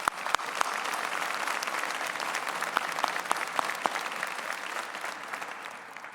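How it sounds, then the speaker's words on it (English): Steady applause from a crowd, sustained clapping at an even level throughout with no talk. "And please help me give them a big round of applause."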